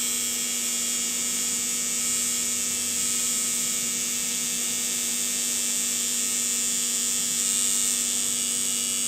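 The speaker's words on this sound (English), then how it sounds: "You can hear I don't have the machine running super fast" A tattoo machine runs steadily during black and gray shading, a continuous electric buzzing hum at moderate speed, alone without talk.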